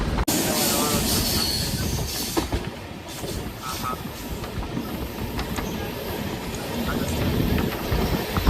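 A moving passenger train on the route to Jejuri in Maharashtra rumbles and rattles continuously from inside the carriage, with wheel squeals and clattering over the steady roar, and faint voices mixed in.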